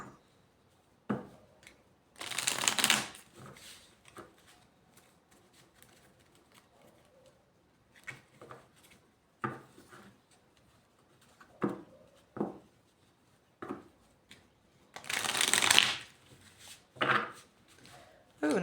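Tarot cards are shuffled in two brisk riffling bursts, separated by quieter rustling and small taps.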